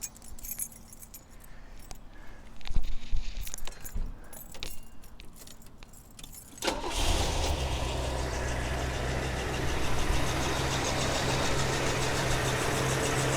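Keys jangle and rattle, then the V8 engine of a 1973 Mercury Marquis Brougham Coupe cranks and catches, settling into a steady, rumbling cold fast idle that holds loud and even to the end.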